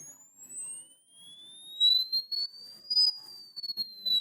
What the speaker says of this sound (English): that starts to sound like an alarm, doesn't it?